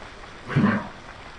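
A single short, hoarse cough from a dog with kennel cough, nearby, standing out briefly against quiet background.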